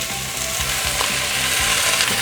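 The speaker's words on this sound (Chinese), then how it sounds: "快速的翻炒。" Napa cabbage leaves stir-fried quickly in a wok: a loud, dense sizzle with a regular rhythmic tossing and scraping pulse repeating several times a second, close up, with no talking.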